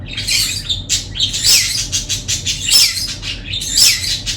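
Indoor pet birds squawk and chirp loudly and close by, shrill calls in repeated bursts that overlap throughout, with no voices.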